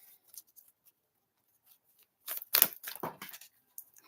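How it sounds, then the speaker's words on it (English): Cards shuffled in quick riffling bursts, soft and close, after a few faint taps in near silence. "They said I was shuffling too much"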